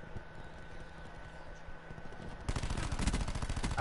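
Rapid automatic gunfire in Black Ops 4 multiplayer, starting partway through and continuing as a dense, loud burst of repeated shots over steady game background noise.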